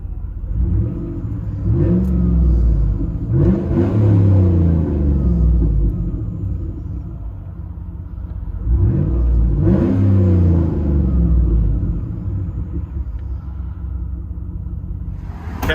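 A 2009 Cadillac Escalade with a 6.2L V8, dual exhaust and a Vibrant race muffler revs hard in two long swells, its deep rumbling exhaust rising and falling over a steady idle, loud and close.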